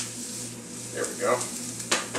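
Onions and celery sauté in a pan for glazed meatloaf, a soft steady sizzle with a few light utensil scrapes and clinks close by.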